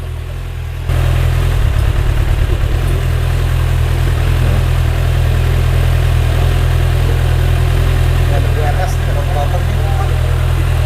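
A 2024 Kawasaki ZX-6R fuel-injected motorcycle engine idles close by, starting after a brief pause as a steady, even low drone that holds for about ten seconds, with faint voices in the background.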